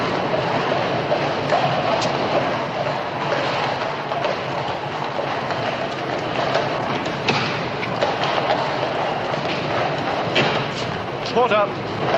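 A boat train rumbles steadily along its rails with a continuous clattering roar, while people talk over the noise.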